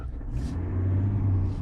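A 2020 Chevrolet Silverado 1500 with the 3.0L Duramax turbo-diesel restarts from auto stop and pulls away, a close, deep rumble swelling steadily into acceleration with no talking.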